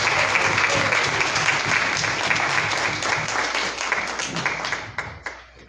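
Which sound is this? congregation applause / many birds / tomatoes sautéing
congregation applause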